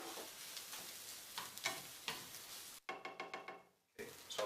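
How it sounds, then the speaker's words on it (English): Chopped garlic stirred into a hot frying pan while making a Spanish omelette, giving a steady sizzle with several scraping stirs, a brief quieter gap, then a run of quick rhythmic scrapes before the sizzle returns, close and moderately loud. "Now we will add the garlic, the diced garlic, the chopped garlic,"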